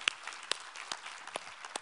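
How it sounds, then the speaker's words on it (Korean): During a Sunday morning church service, the congregation gives a thin, scattered applause of a few distinct claps spaced out over a couple of seconds, close and moderately loud. "우리 하나님께 감사와 영광의 박수를 드리겠습니다"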